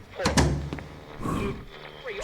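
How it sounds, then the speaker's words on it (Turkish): A door in the horror video game Eaters shuts with a short thud early on, while a voice talks over it and continues afterward. "şu kapıyı bir kapatayım ya"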